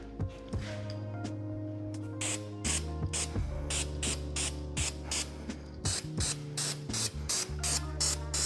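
A spray can or gun coats an engine block during a BMW LS swap build, giving repeated short hissing bursts in a quick, uneven rhythm with mechanical clicks between them, close and loud with no voices.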